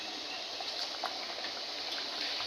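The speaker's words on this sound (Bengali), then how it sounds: "এদিকে আমি পিঠেগুলো ভেজে নিই" Steady, dense frying hiss of pithas (rice cakes) in oil on low flame, with faint bubbling crackles throughout, fairly quiet and continuous with no talking.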